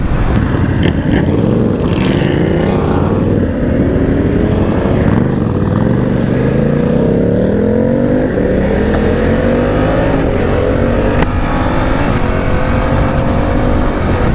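A 2020 BMW F900R motorcycle rides twisty canyon roads, its engine droning loud and steady with rising and falling revs over continuous wind rush.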